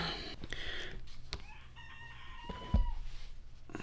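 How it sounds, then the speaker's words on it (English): A rooster crows once in the mid-distance, a drawn-out wavering call with clucks and other farmyard fowl sounds around it, heard alone with no talking. "I hate those roosters."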